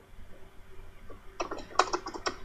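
Computer keyboard typing for an in-game chat message, a quick cluster of crisp key clicks building in the second half, fairly quiet and close with no talking.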